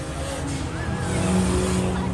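A car engine revs up and down in a busy street scene, with a rising and falling whine among other traffic noise.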